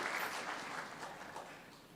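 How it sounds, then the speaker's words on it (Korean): A church congregation applauds to welcome a visiting pastor's family during a Sabbath service, a steady wash of many hands clapping at moderate, slightly distant level throughout, with no talk. "박수로 환영해 주시면 감사하겠습니다."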